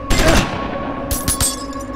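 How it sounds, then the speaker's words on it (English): A quick burst of gunshots in Wasteland 2, loud cracking reports up close, a first shot ringing out, then a rapid cluster of follow-up shots over a steady humming background. "have him take a quick shot at the wrecking crew"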